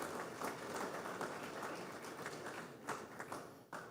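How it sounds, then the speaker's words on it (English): A conference audience applauding at a West African refined fuel market event, a fairly quiet, steady patter of many hands clapping with a few sharper claps near the end. "Let's please give him another round of applause."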